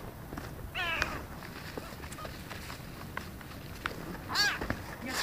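A kitten meows twice outdoors, a clear high mew early on and another close call near the end, with scuffling steps and quiet background noise between them.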